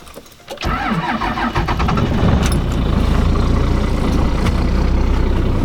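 A dually pickup truck engine cranks briefly, catches, and settles into a loud, steady rumbling idle close by, with no voices.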